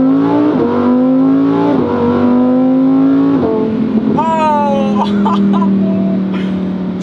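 A Lamborghini Huracán Performante's 640-horsepower V10 revs loud and close, its droning note climbing in repeated pulses with sharp shifts between gears.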